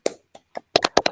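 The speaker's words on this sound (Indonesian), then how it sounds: "Oke, tepuk tangan untuk kita semua." Children clapping their hands in a classroom: a few separate, sharp claps, then a quicker cluster of four or five, close and fairly loud.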